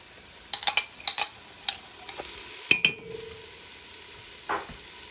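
Garlic goes into a pan of frying onions with a low steady sizzle and a series of sharp scrapes and clicks from stirring, a cluster early on and a few more after, close to the listener, with no voices.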